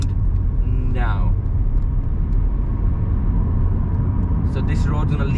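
Inside a car accelerating on a wide road near Horsforth, Leeds, during driving practice at around 35 mph, a loud, continuous engine and road rumble fills the cabin, with a few brief squeaks over it.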